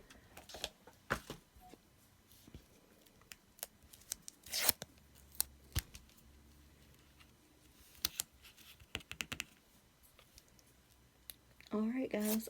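Strips of tape being pulled and torn while making a squirrel card, sharp scattered rips and crackles at close range, quiet between them, with a voice speaking at moments.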